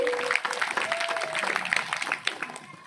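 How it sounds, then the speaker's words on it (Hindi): An audience at a Ram Katha gathering claps loudly and continuously, a dense patter of many hands held for a few seconds, with a faint sustained tone beneath it. "पर जोरदार ताली बजाइए"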